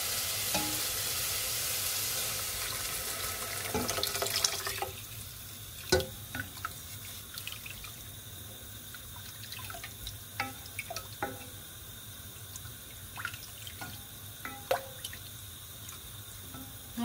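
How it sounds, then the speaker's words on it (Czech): Cold water poured into a pot of carrots frying in oil sets off a loud rushing sizzle that fades after about five seconds, followed by quieter bubbling, clinks and scattered pops, with no voices. "Zalijeme vodou. Já tady mám nachystaný litr studené vody."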